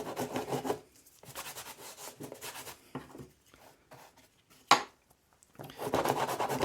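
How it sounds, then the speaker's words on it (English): Charcoal scratched and rubbed across an old repurposed canvas to build texture, giving bursts of dry rasping strokes separated by quiet pauses, with one sharp scrape partway through and a steady run of rubbing at the end. "I'm kind of doing a little bit of scratching with this charcoal to make some other textures"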